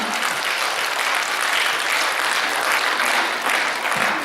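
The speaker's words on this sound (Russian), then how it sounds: "Аплодисменты нашим маленьким артистам." An audience at a Ded Moroz birthday celebration gives young child performers a sustained round of applause, a thick, steady wash of clapping throughout.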